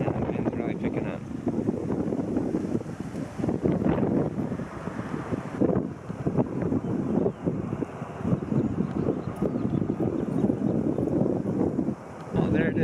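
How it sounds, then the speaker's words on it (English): Strong wind buffets the microphone at a stadium construction site, a loud continuous roar that surges and dips for the whole stretch. "And the wind's really picking up."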